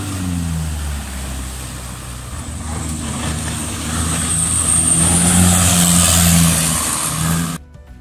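Loud passenger boat engine passing on a canal in Thailand, a heavy droning motor rumble that builds toward the middle, holds near and loud, then cuts off abruptly near the end, with no talking.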